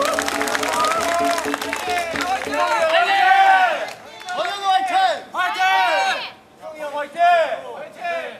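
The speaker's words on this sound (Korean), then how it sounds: "여러분 힘찬 박수로 시작하도록 하겠습니다." A crowd claps and cheers at a 2010 Taekkyon Battle third-place match between Gyeongbuk Seongju and Korea University, a loud, dense wash of applause under an announcer's voice.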